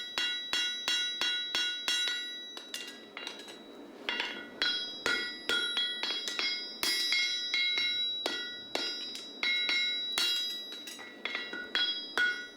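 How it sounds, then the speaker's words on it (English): A hammer rings against a horseshoe for a heavy horse on an anvil in steady, rapid strikes, bright and clanging, with short pauses between bursts of blows. "Using the heel of my hammer, again drawing the clip from the base to the tip."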